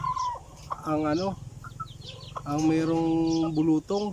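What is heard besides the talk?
chicks peeping in a backyard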